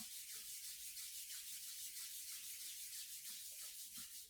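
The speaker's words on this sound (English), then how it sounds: "rub your hands together in a circle" Palms rubbing together in circles during a yoga therapy session, a soft, steady swishing friction with gentle rhythmic pulses, close and quiet with no voices.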